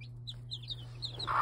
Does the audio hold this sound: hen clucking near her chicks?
yes